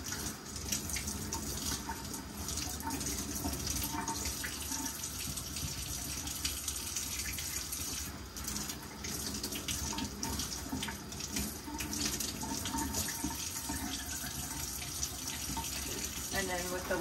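Water runs and drips from a sheet of soaked painting paper, a continuous splashy trickle like a tap running into a sink, steady throughout with small fluctuations.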